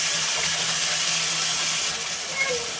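Cauliflower, potato and beans sizzle in a frying pan on the stove, a steady close hiss that continues unbroken throughout.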